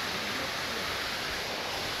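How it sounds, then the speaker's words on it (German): Waterfall at Than Mayom on Koh Chang, Thailand, heard as a steady, dense rush of falling water that fills the whole two seconds at an even, moderate level with no voices. "Da ist der Wasserfall."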